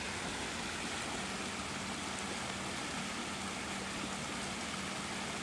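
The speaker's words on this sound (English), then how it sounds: "the creek is flowing like crazy today" A swollen Pennsylvania creek after rain, rushing steadily with a dense, continuous broadband wash and no breaks, close and moderately loud, with no voices over it.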